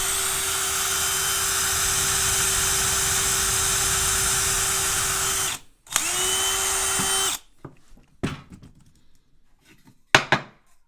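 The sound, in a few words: power drill driving 5 mm screws into wooden battens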